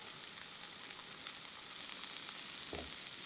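Pork-wrapped rice balls browning in oil in a pan give a steady, close, loud sizzle and crackle throughout, with no talking.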